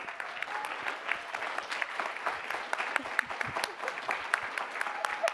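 An audience bursts into applause for a university applause meter, a lively, fairly close clatter of many hands with sharp individual claps standing out throughout the sustained ovation.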